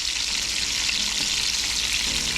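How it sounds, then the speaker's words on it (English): Dense, steady sizzle and crackle of crappie fillets dredged in rice starch frying in hot oil, loud and continuous throughout with no speech. "Remember, you do not want to fry this till it goes dark brown."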